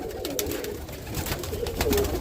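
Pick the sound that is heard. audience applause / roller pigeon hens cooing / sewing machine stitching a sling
roller pigeon hens cooing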